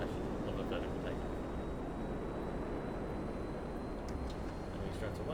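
The Millennium Falcon mod in GTA 5 lifting off vertically, a dense, steady engine roar that fills the whole stretch at constant loudness while someone talks over it.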